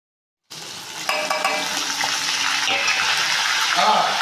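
Chilli, garlic and curry leaves go into hot tempering oil for a greens and dal dish, setting off a sudden loud sizzle that stays steady and hissing throughout.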